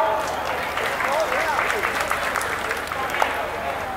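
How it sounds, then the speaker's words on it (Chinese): Steady applause from an audience at a temple festival stage show runs throughout, a dense continuous patter of clapping under a faint crowd murmur. "如果说这首歌大家很熟悉的话，就掌声鼓励一下"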